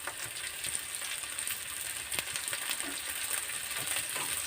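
Curry leaves sizzle steadily in hot oil on low heat during tempering, a dense continuous crackle with a few sharper pops, close and alone without any talk.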